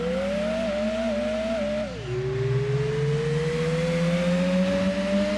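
Mazda Demio with its muffler removed in Gran Turismo 2, a steady droning engine note that drops at a shift and then climbs slowly as the car accelerates, with no talk over it.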